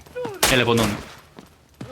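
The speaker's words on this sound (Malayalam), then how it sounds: "എടാ എവിടെ വെടി വരുന്നുണ്ടല്ലോ" Gunfire in the mobile shooter Delta Force Mobile: a burst of shots and a few sharp cracks sit close and loud over a person speaking.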